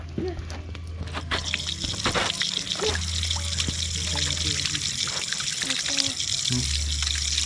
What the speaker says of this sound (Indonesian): Airnya nyala guys.